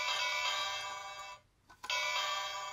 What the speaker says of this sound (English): the first way is to just shake the bell